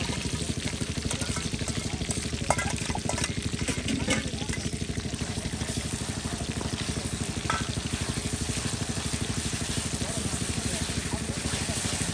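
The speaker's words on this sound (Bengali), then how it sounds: "সব কিছু একসাথে এই যে ভেজে নেওয়া হচ্ছে" Onions, garlic and chili frying together in oil in a pan give a steady, dense sizzle that runs unbroken for the whole stretch, with a low engine-like rumble underneath.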